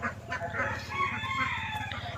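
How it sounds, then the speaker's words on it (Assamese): Ducklings chirp and peep in a continuous busy chorus at an Assam duck farm that keeps ducks and fish together around a pond, fairly faint and without talk. "হাঁহ পোৱালিকেইটা"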